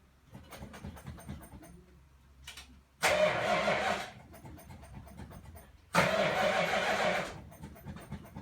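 A 1970 Dodge Super Bee with a factory Hemi engine cranks in two loud, close attempts of about a second each, with a quieter low idle rumble in between.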